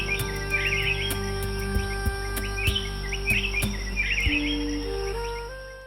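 Bird calls in a forest, bright chirping phrases repeating in short bursts at moderate distance over a steady hum of insects and low background drone.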